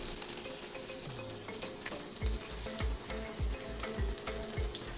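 Lemongrass, lime leaf and ginger stir-fry in a pan with a loud steady sizzle. The utensil knocks against the pan in a regular rhythm, about once every half second, in the second half.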